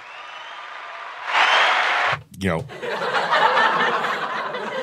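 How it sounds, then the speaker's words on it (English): A burst of canned applause and laughter fired from a Rodecaster Pro podcast mixer preset, bright crowd clapping swelling under a host's voice on mic, cut off suddenly, then giving way to chuckling and talk. "but some applause and laughter"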